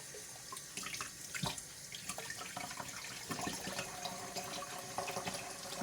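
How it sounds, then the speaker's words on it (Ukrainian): Running water rinses phalaenopsis orchid seedlings out of a glass culture flask, a steady splashing flow with small irregular spatters, fairly close and continuous with no talk. "розмиваємо водичкою."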